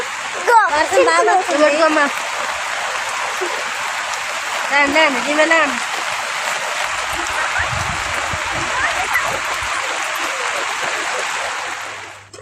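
Steady rain falls on a village hut and the trees around it, a dense, loud, unbroken hiss that runs through the whole stretch, with voices talking over it early on.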